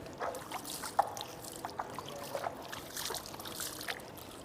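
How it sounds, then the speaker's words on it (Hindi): Water poured by hand over the feet during wudu ablution, a steady light splashing and trickling with small irregular spatters, close and continuous, no talking. "आप पानी लें और इस तरह पानी डालते जाएं और खिलाल करते जाएं"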